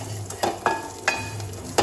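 Cashews and coconut roast in a pan, with a steady sizzle under a few sharp scrapes and taps of a spoon stirring against the metal.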